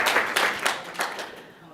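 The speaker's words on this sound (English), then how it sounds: "Please give us a round of applause, Dr. Brian" Audience applause at a health conference session, a short burst of clapping with several bright peaks that fades toward the end, fairly close and mixed with some background voice.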